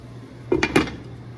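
Two quick metallic clanks of a lid set onto a cooking pot of simmering meat for Kapampangan bringhe, close and fairly clear over a steady low hum, with no talking.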